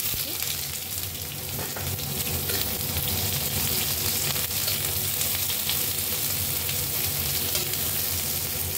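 Two onions sizzle in hot oil in a pan after garlic and green chilies, a continuous close crackle and hiss with occasional stirring noises throughout.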